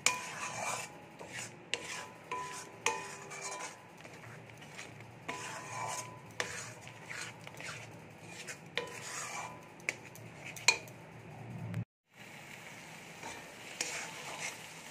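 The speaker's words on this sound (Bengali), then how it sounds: "আবারও মশলাটা খুব ভালো করে কষিয়ে নেব।" Masala for a soya bean curry without onion or garlic is stirred and fried in a pan, a soft sizzle under repeated scraping strokes of a spatula at close range, with a brief pause near the end.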